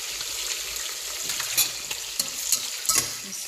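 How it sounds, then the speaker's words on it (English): A spoon stirs tomatoes into a simmering spinach vegetable soup, with a steady pan sizzle and a few louder scraping clinks near the end and no voices. "Just stir it, add it step by step"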